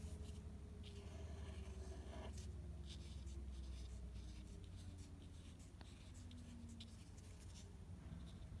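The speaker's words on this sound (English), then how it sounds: "I'm gonna draw the sun." An orange pen scratches across paper while drawing the sun, a faint, continuous scribbling with short strokes and small taps, close and quiet, over a low background hum.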